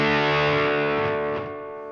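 An electric guitar runs through a PedalPCB Shrapnel overdrive pedal, a compressed, clamped-down drive. A single sustained chord rings loud and thick with overdrive, then slowly decays.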